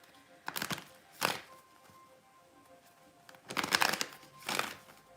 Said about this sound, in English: One more deck to shuffle and then we can get on to our mutables.